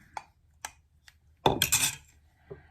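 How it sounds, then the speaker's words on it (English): A single egg is scrambled with a utensil in a bowl. A few quiet, spaced clinks against the bowl are followed by a brief, busier burst of scraping and tapping, with no talking. "I'm going to go ahead and scramble it in the bowl."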